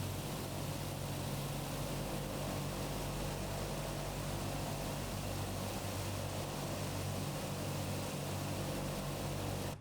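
Propeller engines of a PMDG Douglas DC-6 in Microsoft Flight Simulator hold a constant, loud, droning roar that stays even throughout without any voices.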